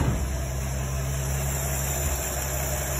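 A 1950 Chevrolet engine idles steadily, a low continuous rumble with a faint high whine, running alone without talk.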